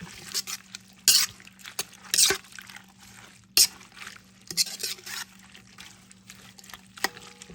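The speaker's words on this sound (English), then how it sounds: "let me get a spoon and we'll get this mixed. Okay. Get it all stirred up." A spoon stirs fermented salsa in a bowl, with several sharp clinks against the sides and wet, squelching mixing sounds between them, all close and with no talking.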